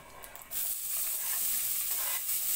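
Fresh tofu hits a hot frying pan, a quiet moment broken by a sudden loud burst of sizzling that then holds steady.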